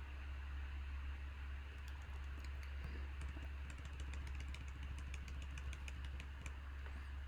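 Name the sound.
computer keyboard typing a password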